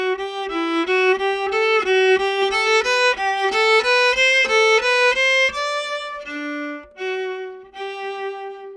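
Solo viola plays a Bourree excerpt with shaped dynamics: a steady line of bowed notes, swelling and easing in volume, close and clear with no talking.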